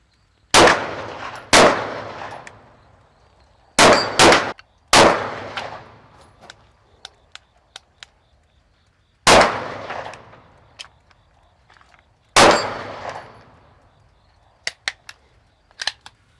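Pistol shots hit steel targets at an outdoor range: about seven sharp, loud cracks, each with a ringing metallic tail, spaced unevenly, with fainter pings from the steel between them.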